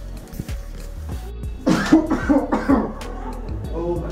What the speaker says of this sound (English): I really have to cut this part where I coughed